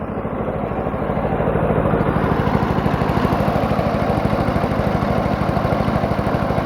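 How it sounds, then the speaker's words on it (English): A brush mower engine idles low and steady close by, a continuous rumbling putter with a throbbing rhythm and no voices. "I love how low it idles"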